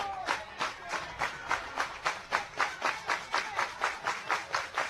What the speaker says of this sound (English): And the crowd's into a frenzy now